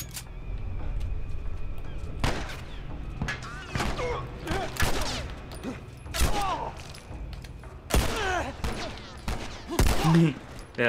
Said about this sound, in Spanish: A ver, un disparo por aquí.